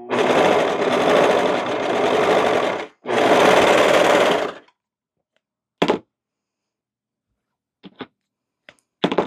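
A sewing machine stitches a cardigan seam in two loud sustained runs with a brief break, followed by quiet and a few sharp clicks.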